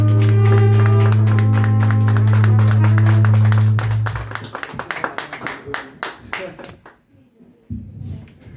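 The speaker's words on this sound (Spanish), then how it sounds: "El aplauso para Doña Aurora" Sparse hand claps from a small birthday gathering after a mariachi song ends, starting under the fading sustained music and thinning into scattered individual claps with some voices.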